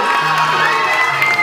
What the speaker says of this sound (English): massive round of applause for you guys